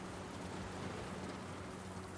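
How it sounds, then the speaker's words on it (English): Steady, dense rain hisses evenly throughout, with no breaks or voices, heard from a place where people are out driving in the rain. "Let's get out of the rain."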